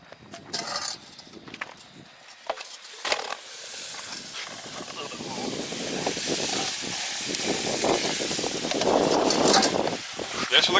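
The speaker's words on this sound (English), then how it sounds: "There's the liquid nitrogen evaporating away fast, boiling away" Liquid nitrogen boiling off and evaporating quickly, a broad steady hiss that grows louder and denser over about ten seconds, with scattered knocks and handling noises early on.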